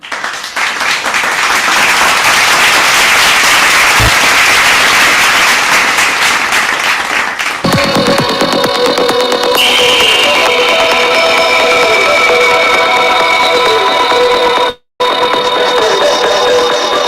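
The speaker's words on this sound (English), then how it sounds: "Let's welcome the team with a thunder sound of applause" Loud, sustained applause from a large audience at the e4m Indian Digital Marketing Awards 2025, filling the hall for several seconds, then continuing under music and a later burst of cheering.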